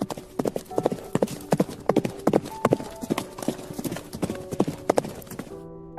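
Horses' hooves clip-clop in a steady trotting rhythm as they pull a coach, loud and close, with a brief whinny near the end.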